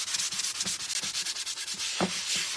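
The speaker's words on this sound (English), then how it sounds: "We're just gonna grab a little sand pad" A hand-held sanding pad rubs back and forth across a wood surface in quick, even scratchy strokes close to the microphone, with no voices.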